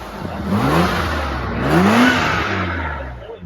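A BMW V12 engine idles and revs gently, a steady smooth drone with rising and falling harmonic tones over about three seconds, close by and moderately loud, with no talking.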